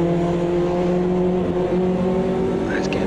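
A Mazda MX-5 in the racing game Automobilista 2, driven with an H-shifter, drones loudly and steadily at high revs through gear changes, close and continuous with no talk over it.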